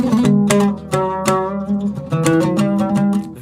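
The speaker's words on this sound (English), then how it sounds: "I'm playing a Turkish oud, which is tuned higher." A Turkish oud tuned to E plays bright, quick ornamented melodic phrases, its plucked strings ringing clearly and close, alone without any voice.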